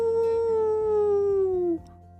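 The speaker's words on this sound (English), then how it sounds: "Trevor, those wolves sound like they're getting closer." Wolves howl in one long, loud, sustained cry close at hand, its pitch sliding slowly downward, with another canine voice faintly beneath, until it cuts off abruptly.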